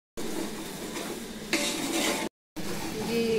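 Garlic-ginger paste sizzles in a hot pan for cauliflower pickle, a steady crackling hiss that brightens partway through, cuts out briefly and resumes, with occasional faint stirring.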